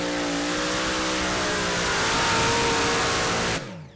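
A pulling tractor powered by two coupled Brad Anderson engines, running at the 2.5-tonne class of a Eurocup tractor pulling event in Bernay, roars loud and close at a sustained high pitch, then cuts off abruptly near the end.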